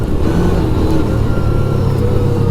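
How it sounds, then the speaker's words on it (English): The V-twin engine of a 2011 Kawasaki Teryx 750 sport utility vehicle rumbles steadily and loudly throughout, low and continuous with a slight throb, during a test drive. "I do love the V-twin sound."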